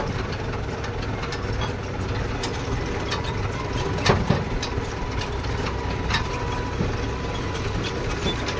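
A tractor engine idles steadily at close range, a low continuous rumble with faint mechanical knocking and a couple of brief clanks near the middle, with no talk.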